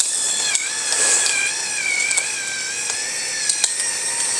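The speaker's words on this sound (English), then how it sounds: "I'm going to put it in the middle and grind it" An electric pepper grinder with an adjustable coarse-to-fine setting, set to the middle, grinds peppercorns with a steady mechanical whir and fine crackle. A few brief clicks punctuate the close, continuous sound, with no talking.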